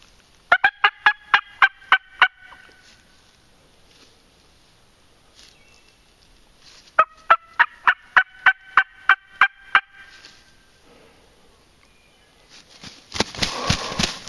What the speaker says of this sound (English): He's still gobbling.